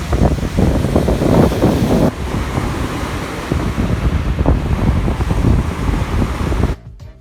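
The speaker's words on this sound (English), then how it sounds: "these waves are a lot bigger than you normally see them, because the wind was blowing them straight towards us" Large ocean waves driven onshore by strong wind at high tide near Lion's Den Gorge Nature Preserve, a continuous loud roar of surf with heavy wind buffeting the microphone, easing abruptly at the very end.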